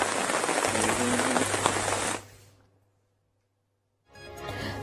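Heavy monsoon rain in Tapi district, a dense close roar of downpour for about two seconds that cuts to silence and then resumes.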